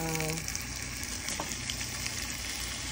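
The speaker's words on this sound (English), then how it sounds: "It should be seared very well." Beef chunks searing in a hot pan for beef stroganoff, a continuous close sizzle and frying hiss with brief stirring scrapes.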